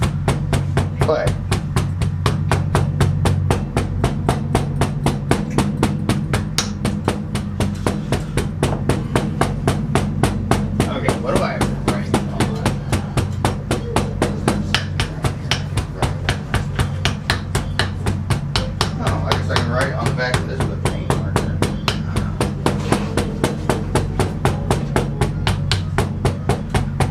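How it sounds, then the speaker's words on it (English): Steady rapid hammering on clay being packed for sand casting, dense regular strikes running throughout, close and fairly loud, with a low hum underneath and occasional voices. "I just sort of use this fucking hammer to do it"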